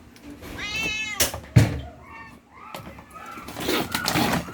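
A household of about eight cats meows at evening feeding time while they are given dry food, several loud meows near and overlapping, with a thud and some clatter between them.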